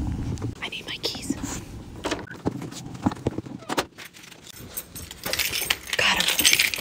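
Keys jangle in short bursts near the start and again toward the end, close and fairly loud, with faint whispering and rustling handling noise in a school book room.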